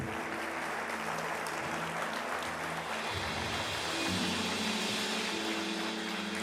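Congregation applause during a church service, fairly faint clapping held under sustained keyboard-like music tones that shift in pitch partway through.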